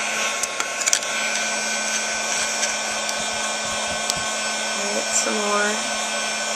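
A hair dryer runs steadily throughout, blowing hot air over a foil-backed bird's nest shape being dried, loud and close with a few light handling knocks and a brief spoken phrase.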